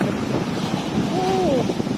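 Steady roar of surf and gusting wind at Puek Tian beach, Thailand, with waves surging in at high tide under rain; the wash rumbles continuously at close range, with a brief faint tonal whine partway through.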